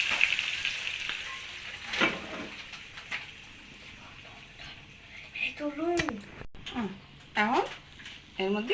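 Lentils being fried in hot oil in a pan give a steady close sizzle with stirring scrapes, while someone talks over it throughout.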